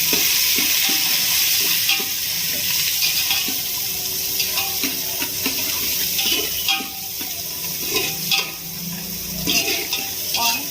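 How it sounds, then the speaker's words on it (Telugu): Chopped onion fries in a pan for a Telangana-style fish curry, giving a continuous close sizzle. A spoon stirs and scrapes against the pan now and then, with faint clinks of cookware and no talking. "ఆనియన్ వేయించుకున్నాం."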